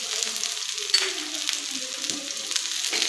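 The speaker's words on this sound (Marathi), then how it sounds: "आता हे सर्व आपण मीडियम गॅसवरती चांगलं गोल्डन ब्राऊन होईपर्यंत परतून घ्यायचं आहे" Sliced onion, garlic cloves and ginger sauté on medium heat in a pan for Sauji egg curry, giving a steady close sizzle with light scraping and stirring sounds.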